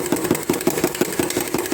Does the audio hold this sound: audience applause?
no